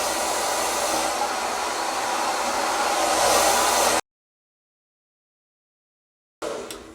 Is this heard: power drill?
no